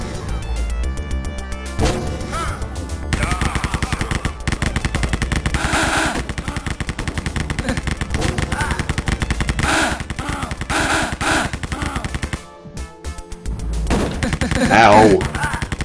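Gunfire in a first-person shooter on a custom id Software map rattles in rapid, loud, continuous bursts, stopping briefly about two-thirds of the way through before starting again.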